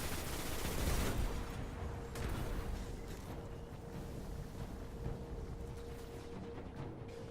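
Gunfire in the video game Destiny during a strike with a tank and sniper shooting: a dense, distant-sounding barrage of rapid shots and booms, loudest near the start and rolling on at lower level without speech.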